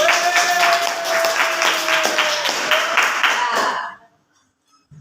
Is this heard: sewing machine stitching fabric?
no